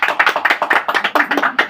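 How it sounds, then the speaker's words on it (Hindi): A crowd at a charitable trust election gathering claps hands in a brisk, fairly regular rhythm, loud and close, with no voices standing out. "तो ताली बजाइए भाई"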